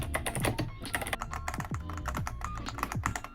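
Steady typing on a Wooting 80HE analog keyboard, quick irregular keystrokes clattering close and moderately soft with no voices over them.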